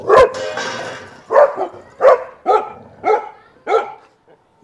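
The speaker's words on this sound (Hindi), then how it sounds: "ऊपर चिड़ियाँ बैठी हैं, उन पे भौंक रही है" A dog named Cherry barks repeatedly outdoors at birds perched overhead, a series of five or six loud, close, evenly spaced barks with short pauses between them and no talk.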